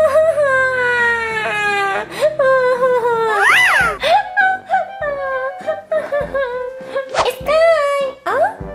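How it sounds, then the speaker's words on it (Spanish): A cartoon puppy from Paw Patrol, Skye, cries with wavering, high whimpering sobs that rise and fall in pitch. The sobs break into short wails and gasps, close and loud, over light background music. "¿Por qué estás llorando?"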